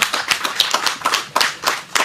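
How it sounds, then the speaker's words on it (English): Heads of departments and staff applaud at an agri-technology training centre handover ceremony, a brisk run of loud, close hand claps in a fairly regular rhythm with no voices over it. "I want you to give yourselves a round of applause."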